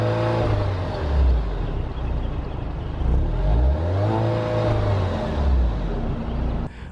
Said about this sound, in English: there was a video that I had that I revved the Giulia